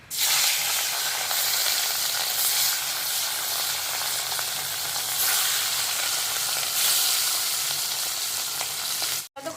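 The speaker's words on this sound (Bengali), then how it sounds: "মাছটা ভাজা হচ্ছে দেখুন" Pieces of rui fish sizzle steadily in hot mustard oil in a kadai, a loud, continuous dense crackle that holds nearly unbroken until a brief drop at the very end.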